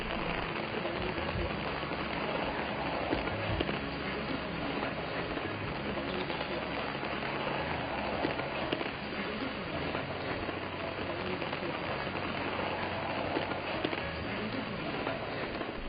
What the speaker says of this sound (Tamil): அப்போ எப்போன்னு இருந்த மழை இங்கே இப்போ ஆரம்பிச்சிடுச்சு